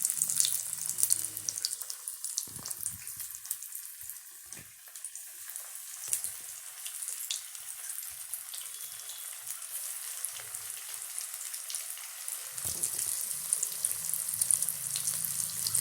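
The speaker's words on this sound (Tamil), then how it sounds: "மீடியமான ஹீட்டில் வச்சு மீன் வந்து பொரிச்சு எடுக்க வேண்டியதுதான்." Rava-coated fish, Mangalore style, frying in oil over medium heat: a steady, fine crackling sizzle runs throughout, with a few louder low bumps near the start and end, and no voices.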